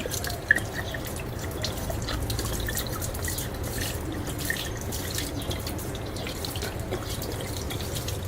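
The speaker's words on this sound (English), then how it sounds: "The pouring speed is very slow, taking more than 13 seconds to empty the bottle." Water pours slowly out of a bottle in a continuous trickling, splashing stream, close and steady throughout with a couple of brief glugs and no talking.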